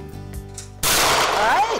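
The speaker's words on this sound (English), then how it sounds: "Shoot that tree." A single loud rifle shot aimed at a tree on a Montana ranch cracks sharply after a brief low hum, then rings out in a long, fading echo across open ground.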